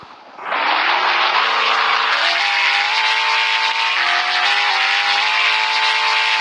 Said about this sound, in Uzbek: Yo'q, mashinani olib keldim.